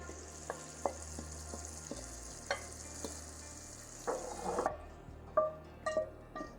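Onions added to soft potatoes in a pan give a faint, steady low sizzle under intermittent clinks and scrapes of a utensil, with a few louder stirring bumps toward the end.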